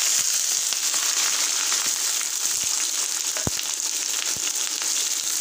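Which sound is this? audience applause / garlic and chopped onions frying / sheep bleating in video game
garlic and chopped onions frying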